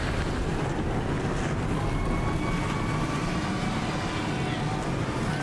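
Race car engines fire up together at the Foxwoods Resort Casino 301 stock car race, a dense, steady roar with a rising whine, loud and continuous throughout.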